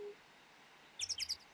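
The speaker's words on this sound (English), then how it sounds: "why is that bird so loud?" A bird in the video game Phoenix Wright: Ace Attorney chirps four quick bright tweets in a short burst, loud and close over a quiet background, with no talking.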